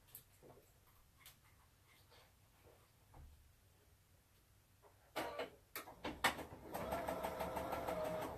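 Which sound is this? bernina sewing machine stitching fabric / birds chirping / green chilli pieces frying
bernina sewing machine stitching fabric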